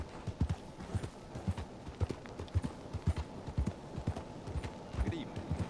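A horse gallops through a town in Red Dead Redemption 2, its hooves clip-clopping in a quick, steady rhythm close by, with a voice speaking over the hoofbeats.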